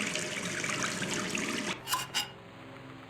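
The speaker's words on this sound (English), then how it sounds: "That's a loud squeaky tap." Water from a tap gushes steadily in the Gone Home video game, a broad loud rush that cuts off suddenly, followed by two short squeaky bursts as the tap is turned.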